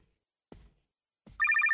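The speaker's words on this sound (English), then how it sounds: "the phone will start ringing and we answer it." An old-style bell telephone starts ringing in the horror video game NightCry, a fast metallic trill that bursts in loudly after two soft thuds.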